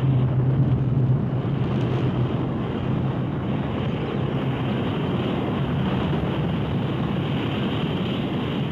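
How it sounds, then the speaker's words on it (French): An Ariane 5 rocket's engines ignite and it lifts off, a loud, continuous broadband roar from a distance that holds steady throughout, with no speech audible over it. "Allumage Vulcain. Allumage UAP, décollage,"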